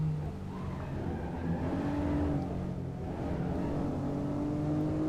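Honda NSX engine in the Assetto Corsa racing game, accelerating under power on track: a steady, loud engine drone with rising harmonic tones, continuous throughout without pauses.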